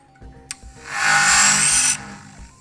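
A DJI FPV drone's motors give a high-pitched whir that spins up after a sharp click, holds steady and loud for about a second, then cuts off, leaving quiet background.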